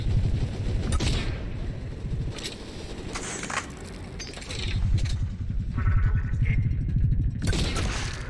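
Gunfire and booms in Mass Effect 3 sniping, several sharp shots and blasts scattered over busy combat noise, with a low rumbling undertone throughout.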